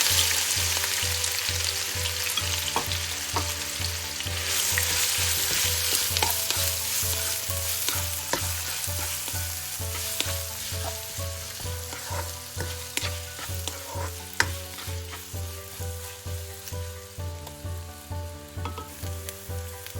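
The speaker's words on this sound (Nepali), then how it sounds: "एउटा हरियो खुर्सानी, एउटा ठुलो साइजको प्याज यसरी मसिनो गरेर काटेर लिएको छु, त्यसलाई राख्नु" Finely chopped onion and a green chili with cumin seeds sizzle steadily in a hot pan of oil, a dense, close frying hiss with a soft regular pulse of stirring throughout and no talk.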